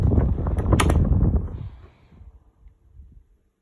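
A 1981 Lasko Galaxy 12-inch oscillating table fan runs loud and steady, then is switched off and its whirring winds down over about two seconds into faint fading rattles and near silence.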